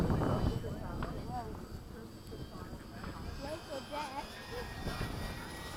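A HobbyKing 70mm Sky Sword RC model jet on 6s power makes a slow pass with landing flaps down. Its steady whooshing drone runs throughout beneath nearby talking.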